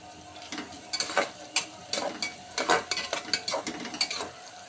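Onions fry with turmeric in a pan while a utensil stirs them, producing repeated scraping strokes in an irregular rhythm over a soft background sizzle.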